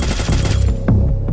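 SCAR assault rifle firing in a mobile battle royale shooter, a rapid automatic burst of close, loud shots with no pauses, brief and punchy.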